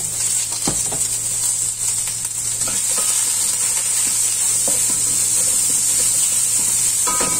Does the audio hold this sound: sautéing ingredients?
yes